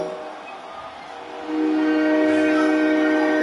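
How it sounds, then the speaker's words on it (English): A train whistle sounds through a football stadium during an NFL game, Detroit at Buffalo, as sustained tonal blasts that rise in loudness halfway through over steady crowd noise. "there's the train whistle again"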